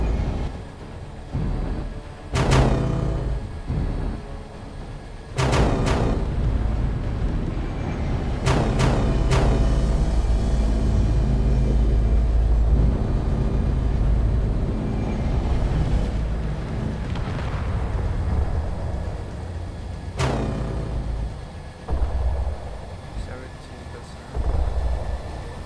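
Space Engineers MAC cannon shots and explosions, heavy booming bursts recurring every few seconds over a constant roaring rumble, with a voice talking throughout.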